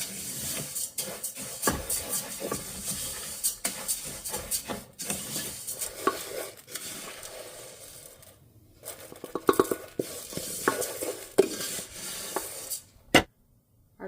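Dry star pasta toasting in a pan while being stirred, giving soft scraping, rustling and light sizzling with intermittent clicks throughout, close and moderately quiet, without speech.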